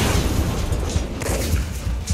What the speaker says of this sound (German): Was explodiert denn hier alles?